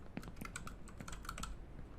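Fingers tap steadily across a computer keyboard, a continuous run of soft, quick clicks at close range with no voices.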